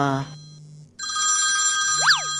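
A telephone ringtone trills loudly and close, following a brief burst of voice; the tone rises and falls near the end.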